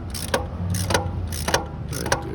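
A ratchet turns a bolt during alternator replacement on a 2009 Nissan Altima, with four evenly spaced clicking strokes over a low steady background hum.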